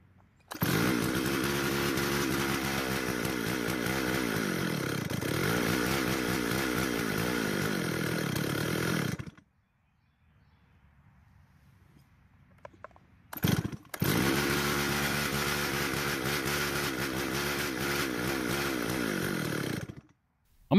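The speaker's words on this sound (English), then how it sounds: "I do want to make sure that the engine will rev up, so I'll start it without the bar and chain and drum on it." A Stihl 034 AV Super chainsaw engine, run without its bar, chain and drum, revs loudly and steadily for about nine seconds, drops to a faint idle, then roars up again in a second long, sustained burst.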